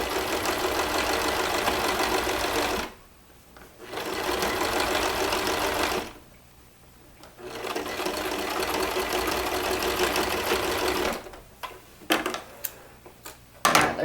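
A sewing machine stitches closed the lining opening of a reversible fabric purse in three loud, steady bursts of rapid mechanical running, each separated by brief pauses with a low hum between them.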